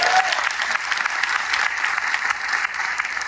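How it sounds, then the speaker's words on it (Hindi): A gathered audience gives loud, sustained applause for new members at a company program, a dense wash of many hands clapping throughout with no pause. "एक बार नए साथियों के लिए जोरदार ताली बजा सकते हैं?"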